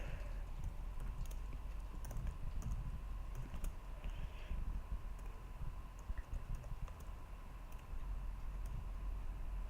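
Computer keyboard typing, a steady run of soft key clicks over a constant low room hum, close and fairly quiet, with no talking.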